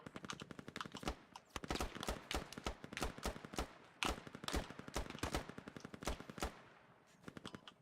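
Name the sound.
gunfire in the video game Squad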